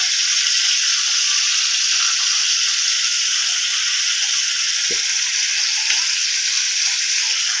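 Garlic and then ginger sizzle steadily in hot oil in a pan while a home-style Marathi chicken masala is cooked, a continuous close hiss with a couple of faint utensil taps, no talking.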